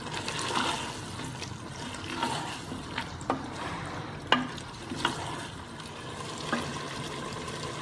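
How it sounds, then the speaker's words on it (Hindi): Food frying in a pan for rajma chawal, with a steady close sizzle and stirring scrapes, and a few sharp spatula taps on the pan rising above the hiss. "इनको हम 3 से 4 मिनट के लिए फ्राई करेंगे"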